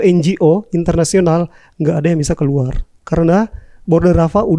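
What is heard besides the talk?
No distinct noise like a dog, phone or traffic.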